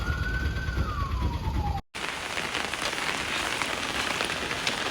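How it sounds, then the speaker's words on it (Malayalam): Heavy rain pouring outside onto surfaces, a dense steady hiss; a siren wails briefly at first before a short cut, then the downpour continues alone. "അപ്പോൾ നല്ല മഴ പെയ്യുന്നുണ്ട് പുറത്ത്"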